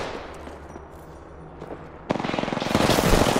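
Automatic gunfire in the video game Apex Legends, with a few scattered shots that break into a loud, rapid, sustained burst lasting to the end.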